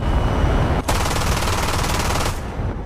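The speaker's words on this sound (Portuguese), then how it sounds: "Ele trocou de alvo e disparou suas metralhadoras, mas elas travaram após apenas alguns tiros." Machine guns on an F-8 Crusader jet fighter rattle in a loud, continuous burst lasting over a second, preceded and followed by dense roaring noise.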